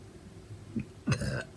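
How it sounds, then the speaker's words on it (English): A short, quiet burp from a woman, one soft gulp followed by a brief voiced belch, close and alone in a quiet room. "I think that was an anxious burp."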